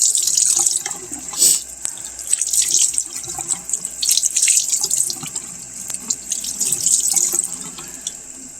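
Water runs steadily from a tap as a blood-soaked cloth is rinsed out at a sink, a continuous close splashing rush with no talking.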